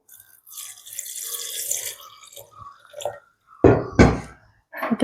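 Boiled water pours in two short, loud splashing bursts near the end, after a quieter stretch of faint kitchen clatter and running-water sounds.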